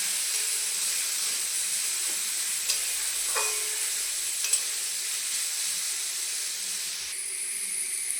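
Potatoes and new winter radish frying in oil in a pan, a continuous close hissing sizzle with faint occasional stirring scrapes and no voices.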